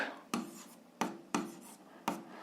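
Short scratchy strokes of a yellow marker underlining on paper, four quick swipes spaced unevenly, close and quiet.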